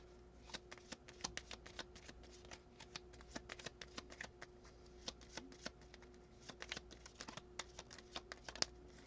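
Tarot cards riffle and snap as a deck is shuffled and cards are drawn and laid down, a busy run of crisp clicks and flicks close by, with a steady faint hum underneath and no talking.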